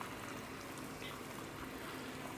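Eggs frying in butter in a stainless steel pan give a soft, steady sizzle with faint crackles, quiet and continuous, with no voices.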